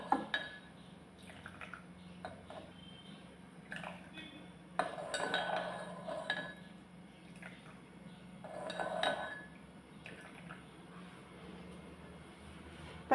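A spoon stirs Nescafe 3 in 1 coffee in a cup, giving a scatter of soft clinks and scrapes at close range, quiet and alone, with scattered pauses between bursts.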